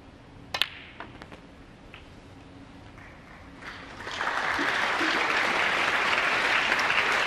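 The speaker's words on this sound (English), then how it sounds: "Round of applause from the knowledgeable audience to say that was frame ball" A few sharp clicks sound in a quiet snooker arena at the 2015 Welsh Open quarter-final. Then broad audience applause swells up and holds steady, fairly loud and close.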